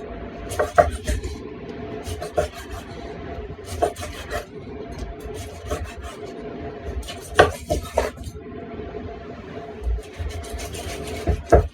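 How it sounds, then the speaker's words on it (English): A knife slices through a cooked ribeye steak on a board, giving repeated short rasping strokes with light clinks of cutlery, close and clear, with no one speaking. "So we're going to go ahead and slice this bad boy up."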